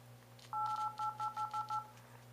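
Dial pad tones from an Alcatel Sonic phone on Straight Talk: seven short, quiet touch-tone beeps in quick, even succession over a faint background hum.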